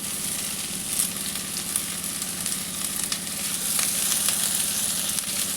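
Mixed vegetables for veg chowmein fry hard in a hot pan, giving a loud, continuous hiss and crackle, punctuated by brief stirring scrapes and rising slightly toward the end.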